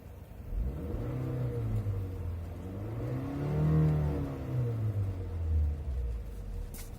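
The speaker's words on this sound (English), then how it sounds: "this one actually lets you rev it up as much as you want" 2018 Mitsubishi Outlander engine revved while parked, rising and falling in several smooth swells over a steady idle, heard from nearby at moderate volume.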